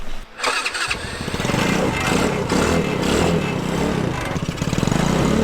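Small gasoline-powered off-road tractor engine starting with a brief crank, then running steadily at close range with a rough, throbbing idle that holds loud and even throughout.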